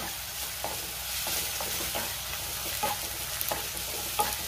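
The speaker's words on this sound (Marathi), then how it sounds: "आलं लसणाची पेस्ट सुद्धा मी परतून घेतलेली आहे।" Ginger garlic paste sautés with fried onions for chicken sukka, a steady close sizzle with regular spatula scrapes and taps against the pan.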